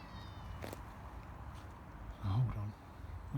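A cat stuck up a tree gives a short, faint meow near the end, barely rising above a rustling outdoor background.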